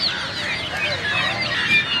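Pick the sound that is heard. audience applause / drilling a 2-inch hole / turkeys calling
turkeys calling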